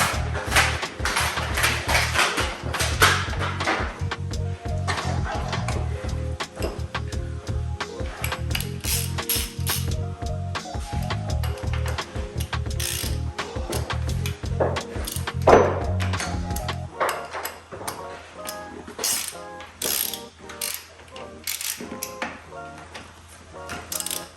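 A ratchet wrench clicks rapidly and repeatedly while tightening cylinder head bolts on a Jeep XJ engine, in close, busy bursts of pawl ticking with occasional metallic clunks over a steady workshop background.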